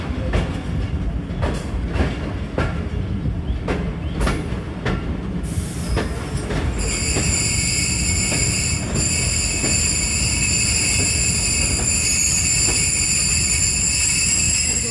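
A passenger train in Pakistan slows into platform 4 at Gujranwala station during monsoon rain. Wheels clatter over rail joints at first, then sustained high metallic brake squeals ring out loudly over a steady rolling rumble.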